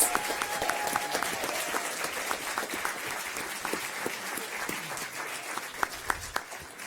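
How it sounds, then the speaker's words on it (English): Audience at a school board meeting applauding a boys team, steady dense clapping that fills the room and holds at an even level throughout, with no talk over it. "So let's give them a round of applause."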